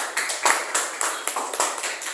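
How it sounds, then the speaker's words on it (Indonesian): A classroom of students claps for classmates in a lesson at school. The claps come in a quick, fairly even rhythm, moderately loud and close, with no speech over them. "Berarti tepuk tangan dulu untuk teman-temannya."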